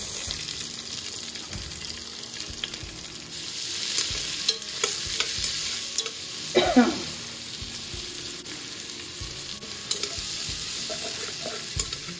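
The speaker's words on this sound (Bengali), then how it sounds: "সিদ্ধ দেবো না, সরি, তেলে টালবো।" Green chillies and prawns stirred and frying in hot oil in a home kitchen, a steady sizzle with scraping stirs and occasional clinks throughout, no voices.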